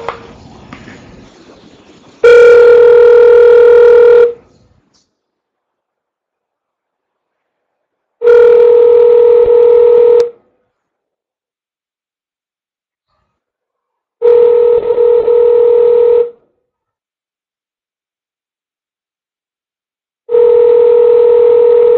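A phone line on an outgoing call to a lead plays a repeated tone: four loud, steady two-second bursts spaced about six seconds apart, clean and alone, with no voices.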